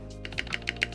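A mechanical keyboard spacebar fitted with Tealios switches rattles and clacks in a quick run of four or five light taps, close up and crisp over a steady low hum.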